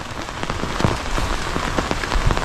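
Steady rain patters densely on surfaces nearby, with scattered louder drops cutting through a constant hiss; no voices are heard.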